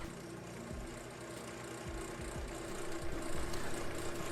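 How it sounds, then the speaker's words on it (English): A wood lathe spins a hybrid resin-and-wood bowl at roughly 1900 RPM, a steady motor hum with rhythmic low swooping whirs as the tool cuts, growing slightly louder toward the end, with no voices. "We're about 18 or 1900 RPM and there's no vibration. It's making a very good cut."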